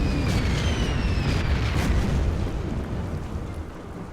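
Bomber attack explosions in the Order of Battle war strategy game: a dense, rumbling wall of blasts and booms that holds loud and then slowly fades, with no talking over it.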